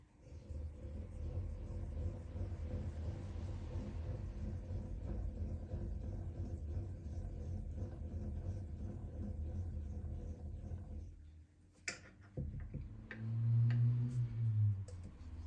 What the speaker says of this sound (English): Got a bevel gear there, you can probably hear it.